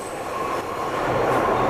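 A subway train rumbles past close by with a steady roar of wheels on track. Faint squeals and metallic clatter run through it.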